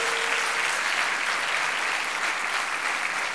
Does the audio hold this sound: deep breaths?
no